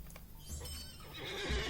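A horse in the online game Lord of the Rings Online gives a clear whinny along with the clip-clop of its hooves. The sound is close and moderately loud, with no talking over it.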